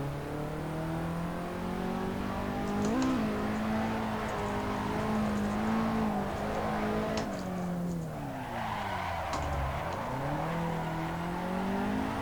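A drifting car in Assetto Corsa, a Mega Tamada street car, revs its engine loudly with rising and falling pitch under continuous tire squeal, close and sustained.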